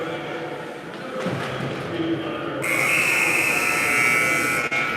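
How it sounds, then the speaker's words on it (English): An end-of-game buzzer at an ice hockey game between Fairfield and Woodstock sounds as a loud, sustained electronic tone over arena crowd noise, after a commentator speaks over the rink's murmur. "All right, there's the buzzer."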